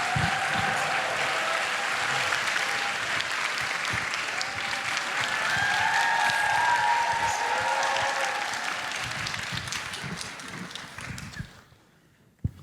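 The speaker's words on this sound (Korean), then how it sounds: "박수 주세요." Church congregation applauding as pastor Song Tae-geun of Samil Church is welcomed at a young adults' service, a long, sustained wash of many clapping hands that fades out near the end into near silence.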